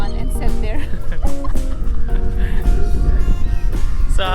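Seaside seagulls squawk and call repeatedly while being fed on a windy day, loud and close, with overlapping cries, strong wind and a voice speaking nearby.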